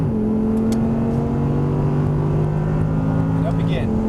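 An Audi R8 V10 engine holds a steady high-pitched roar at full throttle, rising in pitch before a quick shift near the end. A voice is heard faintly over the engine.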